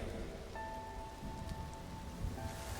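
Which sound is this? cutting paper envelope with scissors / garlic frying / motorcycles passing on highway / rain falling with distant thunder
rain falling with distant thunder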